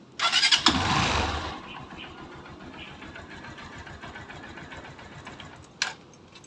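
A Honda TMX Supremo motorcycle engine cranks with a loud burst, catches, and settles into a steady, even idle with a rhythmic putter, with a brief sharp noise near the end.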